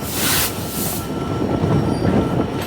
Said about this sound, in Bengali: সামনে থেকে আবার আপনারা যেই স্টিলের স্লিপারের গর্জন সেটি শুনতে পাবেন